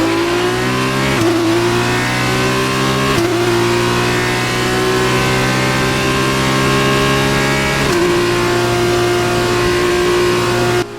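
Race car engine in F1 2019 at the Red Bull Ring, a loud steady high-revving drone held close throughout, with brief dips and shifts in pitch at a few points as the car pushes toward the line.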